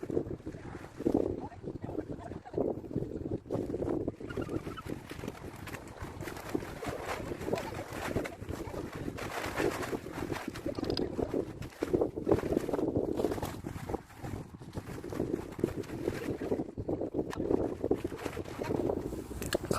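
Strong wind buffets the microphone in heavy, continuous gusts while rain falls during the pitching of a Eurohike Air 600 tent outdoors, a loud roaring wash with occasional voices underneath.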